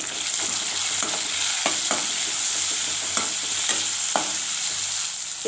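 Steady hiss of chopped tomato and spices sizzling in a hot pan for squid gravy, with occasional scraping clicks of a spatula stirring through it; no voices.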